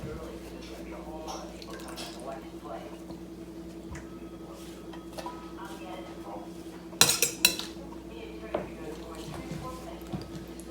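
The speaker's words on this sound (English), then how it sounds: "we are going to use our slotted spoon to put it in there" Sliced apples scooped with a slotted spoon into a 9x13 baking dish for Southern apple crisp, with soft wet clinks and a few sharper clatters of spoon against dish, under a person talking.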